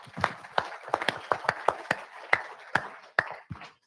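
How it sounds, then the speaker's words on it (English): At a trucking company's safety meeting, a small group gives a round of applause: a handful of distinct, irregular claps ringing out one by one in a quiet room, fairly close and thinning toward the end. "Give yourselves a round of applause."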